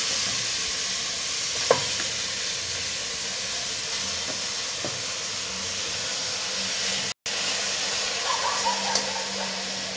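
Pork ribs searing in a hot pot, giving a steady, loud, close sizzle and hiss that runs throughout, with a few faint clinks and brief stirring sounds and no talking.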